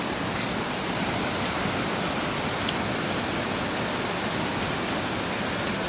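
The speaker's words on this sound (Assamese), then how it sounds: "পুৰা শিলাবৃষ্টি, বৰষুণ, বতাহ, ধুমুহা চব এফালৰ পৰা গছ-গছনি ভাঙি নিছে দেই।" A hailstorm with small hailstones, heavy rain and strong wind, violent enough to break trees, makes a dense, steady, close roar that does not let up, with no voices.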